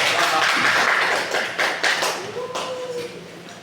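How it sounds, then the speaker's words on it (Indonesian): Classroom applause for a student's presentation during a micro-teaching lesson, short and fairly quiet, a few seconds of scattered clapping and taps in a small room. "Silakan berikan aplaus dulu untuk Ibnu"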